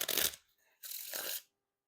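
New Succulents playing cards by Penguin Magic being shuffled, two quick riffling bursts of papery ruffling, close and fairly quiet, separated by a short gap.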